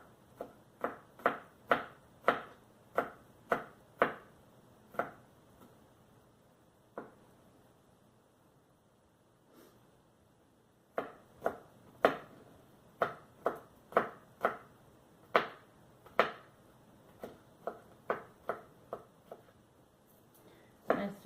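A ceramic knife chops garlic cloves on a board in sharp, close taps, quick runs of evenly spaced strikes, a pause, then more irregular bursts of chopping.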